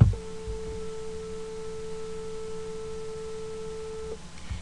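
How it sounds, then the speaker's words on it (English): A pure 440 Hz sine wave tone played for a physics lesson on beats, a single steady pitch held for about four seconds before cutting off, with faint background noise. "I'm going to play a sine wave at 440 hertz for you right now."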